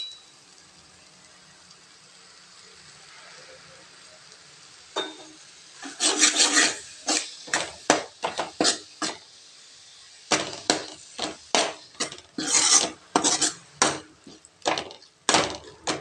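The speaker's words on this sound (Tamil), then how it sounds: "இப்போ இது எண்ணெயிலேயே நல்லா கிளறி விட்டுட்டு" A spoon stirs and scrapes masala frying in oil in a pan for mint pulao, producing a quiet sizzle followed by bursts of rasping, scraping strokes in an irregular rhythm.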